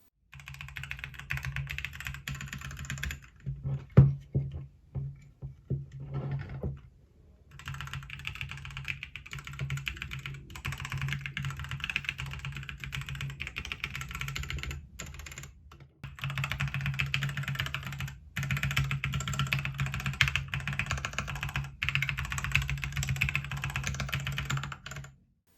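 Steady typing on a mechanical keyboard with electrical tape applied over part of the plate, a close, dense clatter of keystrokes that pauses briefly around a few seconds in and resumes, no voices.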